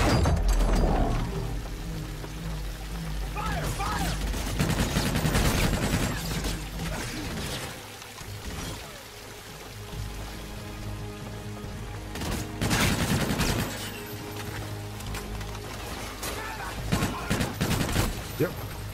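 Heavy gunfire in Call of Duty Infinite Warfare, dense bursts and volleys of shots rising and falling over about nineteen seconds, loud and close, with voices talking over the battle.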